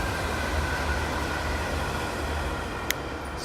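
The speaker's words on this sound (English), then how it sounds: "Excuse the train noise in the background." A steady, broad rumble of a passing train fills the background, even and continuous, with one brief high click near the end.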